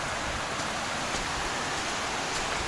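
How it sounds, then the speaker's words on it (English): A creek flows steadily along a muddy, slippery woodland hiking trail, its broadband rushing wash constant and fairly close, with no voices over it. "And we're back at the creek, which is nice."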